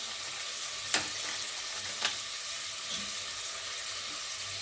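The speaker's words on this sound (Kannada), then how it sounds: "ಇವಾಗ ಸ್ವಲ್ಪ ಕಂದು ಬಣ್ಣ ಬರೋವರೆಗೂ ಈರುಳ್ಳಿನ ಚೆನ್ನಾಗಿ ಫ್ರೈ ಮಾಡ್ಕೋಬೇಕು" Onions frying in a pan for chicken biryani, a steady close hiss of sizzling oil with two sharp clinks of a utensil against the pan.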